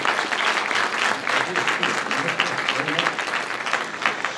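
Steady audience applause at a military speech competition, a dense continuous clapping that holds evenly for several seconds with no pauses.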